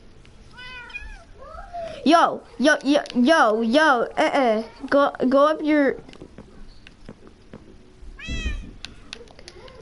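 Pet cats meow loudly and close up in a home, a run of rising and falling drawn-out cries in quick succession with a later shorter meow, while a person speaks briefly.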